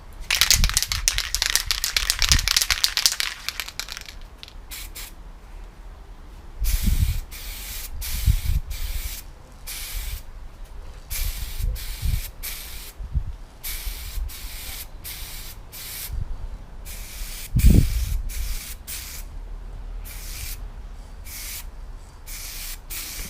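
Short hissing bursts from a can of satin black spray paint painting a toy car, several in a row with pauses between, after a longer spray at the start, with some rattling and handling noise.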